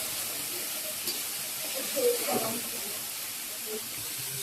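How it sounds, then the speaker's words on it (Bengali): Spice masala hisses and sizzles steadily in a hot pan as it is fried, with fish frying nearby. A soft, continuous hiss swells briefly in the middle, with faint voices in the background. "তো এই যে মশলাটাকে কষিয়ে নিতেছি।"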